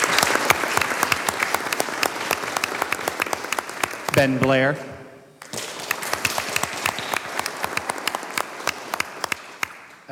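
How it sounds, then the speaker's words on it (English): Applause at a board of education meeting, dense steady clapping from a sizable audience that carries through the whole stretch, with a short spoken name from a presenter cutting in near the middle. "I'm going to suggest that you may hold your applause"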